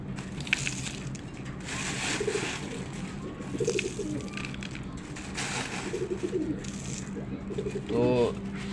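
Pigeons coo repeatedly at a loft where grain is being scattered, with soft rubbing and wooden knocks in the background and a voice murmuring now and then.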